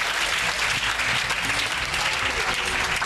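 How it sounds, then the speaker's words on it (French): A church congregation applauds loudly and steadily at a worship service, dense clapping filling the whole stretch without pause. "Acclame puissamment."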